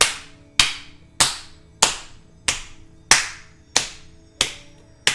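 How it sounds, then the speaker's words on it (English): Limp hands clap down onto a bare foot during a self-massage, giving nine sharp, evenly spaced smacks about every half second, each close and distinct with a quick decay. "clap on the foot."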